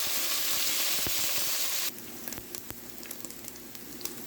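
Ground meat sizzles and fries in a hot pan, a steady close hiss that softens partway through, with light scraping and stirring clicks scattered over it.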